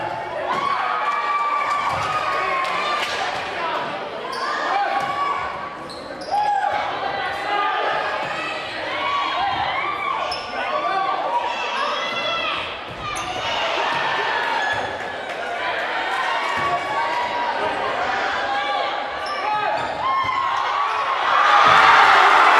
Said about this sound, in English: The Gym 1 crowd went ecstatic, cheering hard for the underdog freshmen.